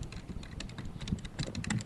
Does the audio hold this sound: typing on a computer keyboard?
yes